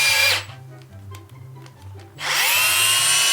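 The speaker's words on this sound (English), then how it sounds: "So I made the hole a little larger with a bigger drill." A power drill widens a hole in a homemade blowing horn: loud whirring bursts at the start and end, with a quieter, lower grinding spell between them and no talk.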